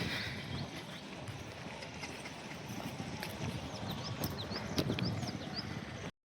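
A farmer's horse at the Yeola horse market in Maharashtra, heard as rhythmic hoofbeat clip-clops over an outdoor background, with faint chirping higher up and no clear speech.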